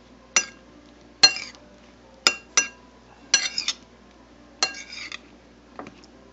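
Minced garlic being mixed in a pan in a small RV kitchen. A utensil clinks and scrapes against the cookware in about seven separate sharp knocks with quiet gaps between them. The sound is close and carries no speech.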